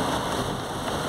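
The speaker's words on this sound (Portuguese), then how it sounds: "Muita chuva, hein? Eita, que chuva" Heavy rain pours steadily in northeastern Brazil, a dense, even hiss of downpour with no pauses and no voices.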